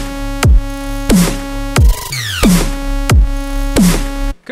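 Serum software synthesizer playing its initialized default patch with no processing: a series of bright, buzzy sustained notes with sharp attacks, roughly six hits in a bouncy rhythm including one pitch-sweeping glide, loud and alone.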